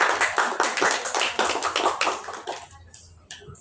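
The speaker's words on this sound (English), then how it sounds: "Can I give applause to" Scattered applause from a small group at a thesis defense, a few seconds of rhythmic clapping that thins out and fades to isolated claps.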